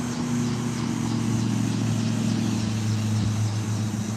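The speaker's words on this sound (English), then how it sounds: "sorry, loud truck" A loud truck passing close by in Bird-in-Hand, Lancaster County, gives a steady engine drone with a low rumbling hum that fills the whole stretch.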